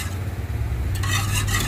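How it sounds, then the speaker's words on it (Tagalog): A spoon scraping and swirling through a creamy gelatin mixture in a pot, a steady low churning with brighter scraping strokes toward the end, close and continuous with no talking. "Continue mixing lang po siya para mag-mix po siyang maigi."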